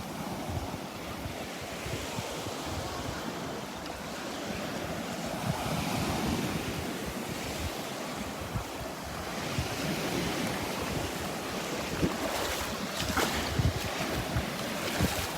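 Gentle ocean surf at Delnor-Wiggins beach with very small waves, a continuous washing rush of breaking water mixed with wind buffeting the microphone, steady and moderately loud throughout.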